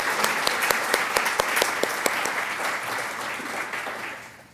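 A room full of attendees at a university health services research welcome session applauds steadily, a dense patter of claps with a few sharper close ones, slowly fading out at the end.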